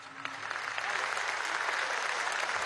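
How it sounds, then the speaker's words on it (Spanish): Audience applause at a Caracas Metro anniversary celebration, a steady dense clapping from a large crowd that carries evenly for the whole stretch. "Despedimos con un gran aplauso al compañero Nicolás Maduro Moros."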